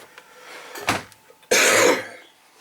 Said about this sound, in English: Excuse the cough, I am in quarantine.